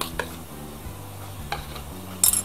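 Spinach crepe batter made with powdered milk is whisked in a bowl, a few light scraping strokes and taps over a faint steady background hiss, ending in a brief louder clatter.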